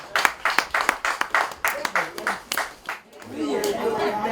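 An audience at a women's forum on governance claps in a quick run of sharp, rhythmic claps, fairly close, followed by murmuring chatter as the clapping stops.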